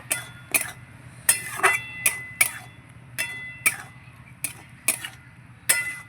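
Spatula scraping and clinking in a pan as chicken 65 is stirred through tomato sauce, a series of sharp metallic taps and scrapes at irregular intervals over a low steady hum, close and fairly quiet, with no talking.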